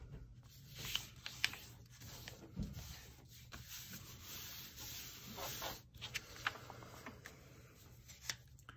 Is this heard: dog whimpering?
no